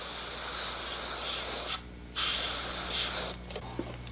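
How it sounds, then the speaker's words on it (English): Spray paint hissing onto the front edge of a jet aircraft model, two long steady bursts with a short gap between them and then a brief tail of softer hiss. "we'll do the same thing, spraying the front edge"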